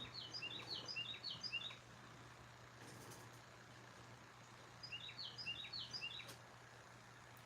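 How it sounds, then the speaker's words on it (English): Wild birds chirping at a backyard bird feeder, two faint bursts of quick high tweets separated by quiet, over a low steady hum. "The birds are happy with my bird food."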